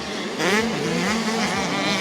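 A motocross bike racing down the big descent at the Gueugnon track, its engine a loud, close, sustained buzzing drone that shifts in pitch as the rider opens the throttle.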